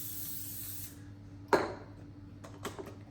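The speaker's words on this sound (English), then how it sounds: "I'm going to use some of this spray, which is what I call kitchen glue" Non-stick cooking spray hits a baking tray in one short, sharp hiss, close and fairly clear over a low steady hum, followed by a few faint clicks and taps.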